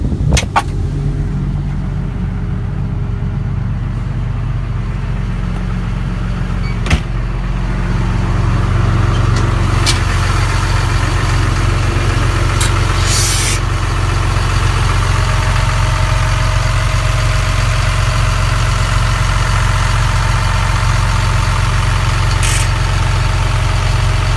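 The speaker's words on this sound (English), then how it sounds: "We'll set the parking brake and we'll leave it running so we can look at blow by and different things like that." A 2010 John Deere 544K wheel loader idles with its parking brake set. The engine gives a loud, steady diesel rumble close by that grows slightly fuller partway through, with a few faint clicks and knocks over it.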